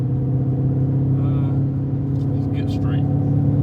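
A Chevy car engine rumbles steadily up close as the driver floors it and it downshifts, a constant low drone with brief higher tones and light voices faintly over it.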